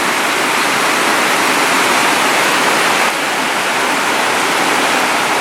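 Heavy rain pours down outdoors, a dense, loud, unbroken hiss and roar that stays steady for the whole stretch with no voices.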